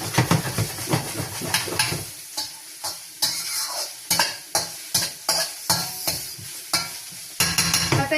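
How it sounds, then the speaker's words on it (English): Indo-Chinese food is tossed in a pan over a strong flame, making a rhythmic series of loud sizzling bursts and metal scrapes roughly every half second, with a steady hiss between tosses. "the rest is getting cooked while you're actually tossing it on fire"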